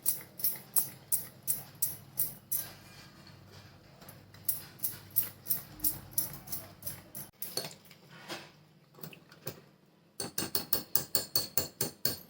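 Mango semolina cake batter is stirred briskly in a bowl, giving steady rhythmic scraping strokes that pause briefly and then resume at a quicker pace, with no talking.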